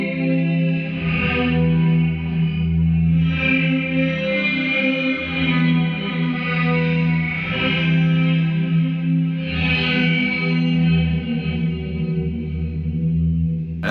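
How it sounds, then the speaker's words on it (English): An electric guitar plays sustained, shimmering chords through a Zoom Space Hole shimmer reverb pedal with modulation, swelling and washing together in a thick, wavering, pitch-shifted tail that keeps going without a break. "So this is the Space Hole. It's a shimmer reverb mixed with modulation and lots of stuff going on here."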